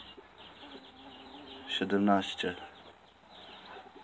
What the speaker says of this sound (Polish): Łącznie wszystkich kur jest 17 plus 23